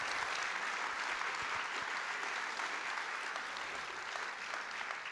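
An audience applauds at the closing speech of the "Les Idées mènent le Monde" event, steady dense clapping filling the hall at an even level from start to finish, with no talking over it.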